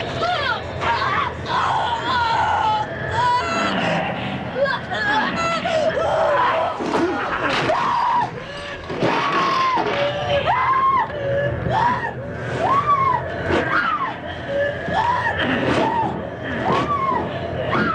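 A woman screams repeatedly in a horror film bedroom attack scene from A Nightmare on Elm Street, long rising and falling shrieks mixed with gasps, groans and frantic commotion, loud and close throughout.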